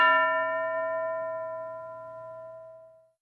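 A single bell struck once in a classroom lesson, its clear metallic tone ringing out and slowly fading over about three seconds, heard alone with no talking.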